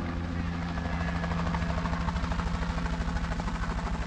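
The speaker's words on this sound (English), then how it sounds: "Oh, that's an helicopter." A helicopter in the video game A Quiet Place: The Road Ahead, a steady low rotor drone with rhythmic chopping throb that grows more pronounced, heard alone and fairly loud throughout.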